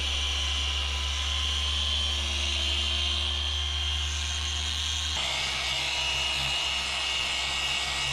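Rupes Duetto dual-action polisher working the faded paint on a classic Ford F100 truck, a steady loud close whir with a constant hum, shifting pitch slightly partway through, no talking.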